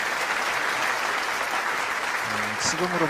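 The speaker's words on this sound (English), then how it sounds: "Let us give another big round of applause to His Excellency Jimmy Morales" Steady audience applause for His Excellency Jimmy Morales at a Rally of Hope event, a dense, even wash of clapping that ends in a brief voice near the close.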